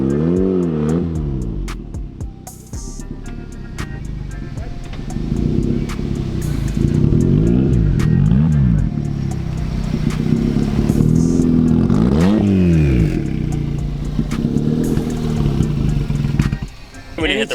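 A turbocharged Toyota MR2 engine revs hard and accelerates from inside the car, its pitch climbing and falling through repeated sweeps, with voices heard at times over the loud engine.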